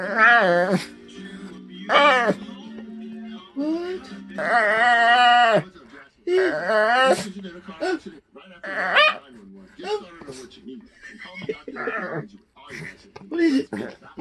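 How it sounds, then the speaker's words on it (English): A pet dog barks and whimpers in a run of sharp yips and high, drawn-out whines up close, with pauses between bursts and a voice talking to the dog in between. "don't bark at me"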